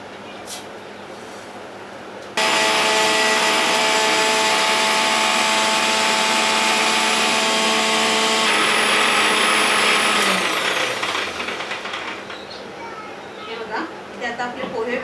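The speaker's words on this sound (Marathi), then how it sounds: "आता आपण पोहे मिक्सरला लावून घेऊया" A mixer grinder runs on roasted, crisp poha. After a quiet start, a loud, steady motor whine kicks in abruptly, holds for about eight seconds, then spins down into faint clatter.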